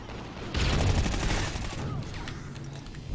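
Call of Duty gunfire during an online Domination match: a dense burst of rapid automatic shots that swells loudly, then thins into scattered shots and battle noise.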